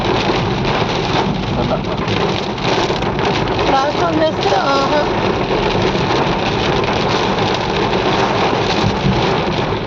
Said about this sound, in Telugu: అసలు అంత వర్షం పడుతుంది